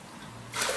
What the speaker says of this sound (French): je vais mettre 4 tasses d'eau en équivalent.